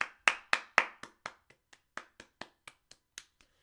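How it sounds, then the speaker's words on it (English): A single person claps a round of applause: about fifteen crisp, close claps in a fairly steady rhythm, loud at first and tapering softer toward the end. "one time, round of applause."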